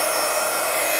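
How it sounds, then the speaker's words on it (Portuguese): A hair dryer blows a steady, loud, unbroken airflow hiss while drying a glued napkin on a glass jar, with no other sounds. "eu estava com secador, se calhar não ouviram"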